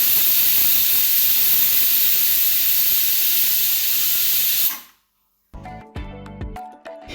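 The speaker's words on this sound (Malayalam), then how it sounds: "കുക്കറിൽ 2 വിസിൽ വരുന്നവരെ നമ്മൾ വെയിറ്റ് ചെയ്യുക." Pressure cooker steaming while jackfruit cooks, a loud continuous high hiss of escaping steam that cuts off abruptly, followed by a short gap and some clattering kitchen noises.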